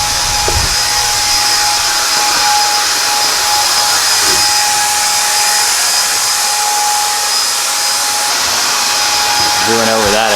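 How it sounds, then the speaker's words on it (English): A paint sprayer spraying the walls of a 1950s garage gives a steady, loud, high hiss with a constant whine, running unbroken the whole time. "Doing over that area right there with the sprayer, you see how much better that looks versus that."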